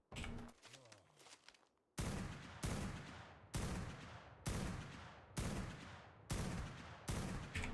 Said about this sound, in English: Sniper rifle does like 800 damage a headshot.